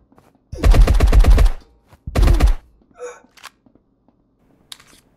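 A Sten submachine gun in the game Marauders fires two loud, close bursts of rapid shots separated by a short pause, followed by a few faint mechanical clicks and rattles.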